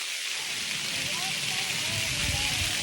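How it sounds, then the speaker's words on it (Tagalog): Steady rain pours down in a dense hiss close by, with low rumbling underneath and faint voices mixed in. "Sa ulan, kami kami nababasa."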